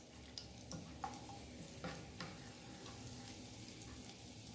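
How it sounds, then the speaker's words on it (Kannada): Chopped onion goes into a hot pan with curry leaves for mushroom ghee roast, giving a soft, steady frying sizzle with a few light stirring clinks and scrapes, quiet and without voices. "ಇದಕ್ಕೆ ಒಂದು ಸಣ್ಣ ಈರುಳ್ಳಿಯನ್ನು ಕಟ್ ಮಾಡಿ ಹಾಕ್ಕೊಡ್ತಾ ಇದ್ದೇನೆ. ಇದು ಕೆಂಪು ಬಣ್ಣಕ್ಕೆ ಬರಬೇಕು. ಅಲ್ಲಿವರೆಗೆ ಫ್ರೈ ಮಾಡ್ಕೊಳ್ಳಿ."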